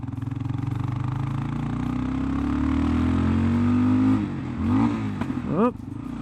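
Kawasaki KLR 650 single-cylinder motorcycle fitted with an aftermarket exhaust header, engine droning steadily and rising in pitch under acceleration, then rapid blips and revs as it slows around a corner.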